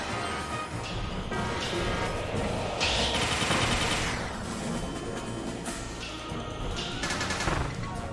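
Cannons are smashed out of the way in Kirby and the Forgotten Land, with dense, loud crashing and banging game effects layered over continuous busy background sound, with a few sharper bursts standing out.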